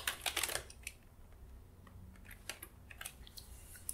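Quick clusters of keystrokes on a computer keyboard as a terminal command is typed, sharp light clicks in bursts with short pauses between, close and quiet with no talking.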